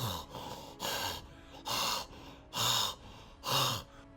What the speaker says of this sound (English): hungry as fuck with that heavy breathing